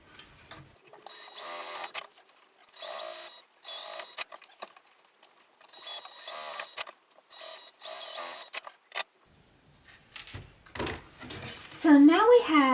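Sewing machine basting lining fabric pieces together, running in several short bursts of rapid stitching separated by pauses, close and moderately loud, with a voice speaking briefly near the end.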